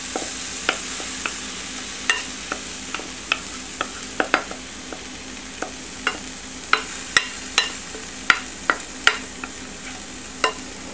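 Rehydrated TVP crumbles sizzle and cook in a chili pan with toasted tomato, a spoon stirring and scraping in sharp, irregular clicks over a steady frying hiss, with no one talking.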